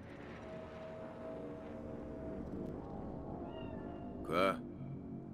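A cat in the video game Cyberpunk 2077 gives a single short, fairly loud meow near the end, rising out of a low, continuous ambient hum.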